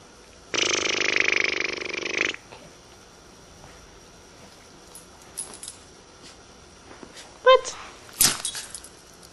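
A dog lets out a long, strained grunting vocalization near the start, followed by quieter gaps and a couple of brief sharp yelps or snorts later, heard close in an indoor room.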